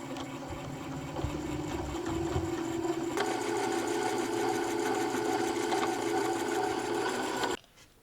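A home sewing machine runs a steady, close mechanical whir while stitching French seams on a garment, then stops abruptly near the end.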